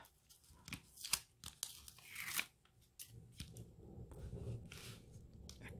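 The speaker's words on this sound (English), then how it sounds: "I'm going to take that tape off." Sticky tape being peeled off a paper craft project, close and crisp, with several sharp tearing rips and crinkles, followed by softer scraping and rustling, no talking.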